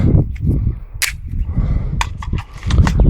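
Sharp gunshots from a 5.7x28mm firearm firing Hornady Critical Defense rounds at steel targets on a range, a few loud cracks with ringing impacts spread across the moment amid low rumbling background.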